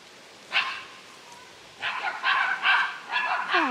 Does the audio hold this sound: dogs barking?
yes